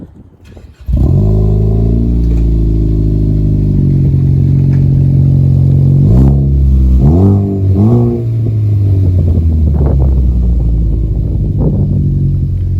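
A Ford Focus ST engine with an MBRP aftermarket exhaust cranks and fires up loudly with a deep, throaty exhaust rumble, settling into an idle with a couple of quick revs midway.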